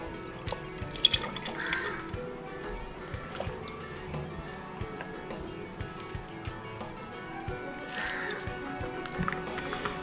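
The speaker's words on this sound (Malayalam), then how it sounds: "അപ്പോൾ ഓയിൽ ഇതിലേക്ക് ഒഴിക്കുക." Palm oil poured over chicken in a pot for Arabian mandi, a soft continuous trickling and running liquid sound with faint drips, steady throughout with no one talking.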